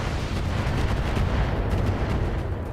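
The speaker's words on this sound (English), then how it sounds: "he's definitely going to be shooting at the Atlas again" Mech weapons fire at an Atlas mech in the BattleTech video game: dense, continuous loud volleys of heavy gunfire and booming impacts with no talking.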